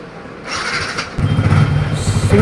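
A Yamaha R15 motorcycle engine cranks on a single self-start and catches, then settles into a close, rumbling idle with a steady low throb.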